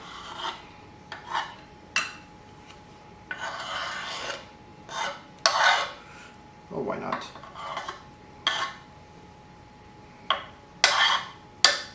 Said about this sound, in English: we're going to add our ingredients into the bowl